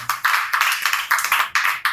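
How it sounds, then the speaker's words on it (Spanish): A church congregation claps during a worship service, a scattered burst of hand claps in uneven pulses, fairly soft and somewhat distant, with no talking over it. "Démosle un aplauso al Señor"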